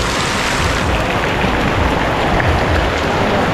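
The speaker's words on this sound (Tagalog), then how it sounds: "Grabe, lakas ng ulan, no?" Heavy rain pours down over an outdoor market street, a loud, dense, unbroken roar of water with no gaps, and no voices.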